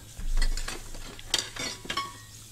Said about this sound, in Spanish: voy a lavar los putos platos